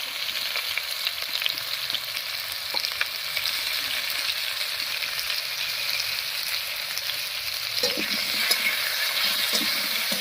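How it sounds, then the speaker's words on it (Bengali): Cut potatoes fry with salt and turmeric in a pan over cumin and bay leaf tempering, a continuous loud sizzle close up with occasional scraping as they are stirred, no talking. "হলুদ লবণ দিয়ে আলুগুলোকে একটু ভাজা ভাজা ভালো করে নিয়েছি"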